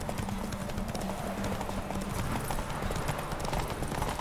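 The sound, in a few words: horse galloping in video game The Witcher 3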